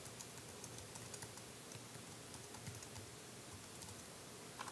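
Soft, quick typing on a computer keyboard patters steadily and fairly faintly, with a low room hum underneath and no talking.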